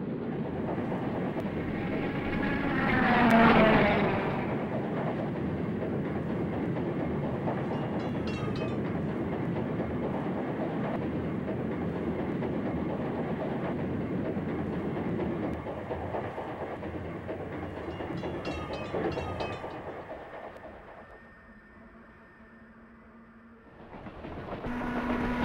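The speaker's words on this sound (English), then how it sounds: "Approaching us is the second Electroliner train set, already slowing down for the Waukegan stop." A North Shore Line Electroliner electric train set rolls through, slowing for the Waukegan stop, with a steady rumble and rail clatter that swells briefly, holds, then fades toward quiet before rising again near the end.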